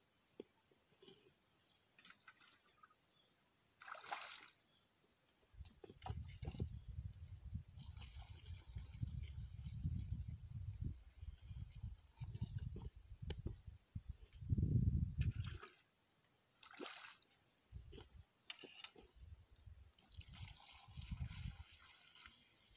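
Water runs and splashes into a 15-litre sprayer tank under an oil palm plantation, coming in uneven gushes and trickles with pauses, fairly close and quiet.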